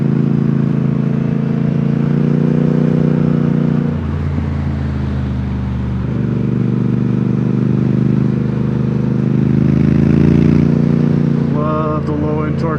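Triumph Speed Twin motorcycle engine pulling hard on a sunset road ride, a loud steady parallel-twin drone that dips between gears and then climbs again as it accelerates, with wind rush throughout.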